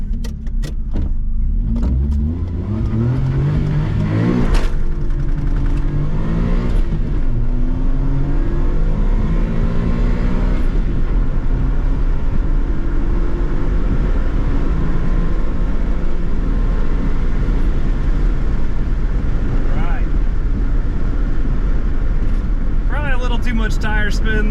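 A 1995 Suzuki Alto Works RS-Z kei hot hatch launches hard with brief tire spin, its small engine revving up through the gears, loud and close from inside the cabin, with a voice speaking over the engine noise.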